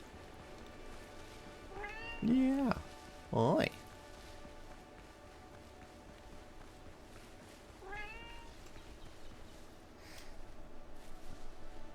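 A cat meows several times in a sailing pirate game, short rising mews over a low steady background, with a person speaking briefly between them.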